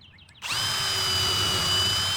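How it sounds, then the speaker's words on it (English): A power drill spins up sharply after a brief quiet moment and keeps whining steadily as it bores a pilot hole into the wood of a raised garden bed planter, close and loud. "drill your pilot hole, not dead center"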